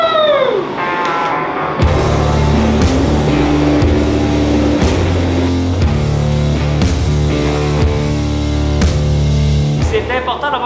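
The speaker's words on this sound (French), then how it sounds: "C'est parti, on allume la forge!" A gas forge lit for making feather damascus steel: after a brief hiss, a loud, close, steady roar takes hold and keeps going with a deep rumbling body.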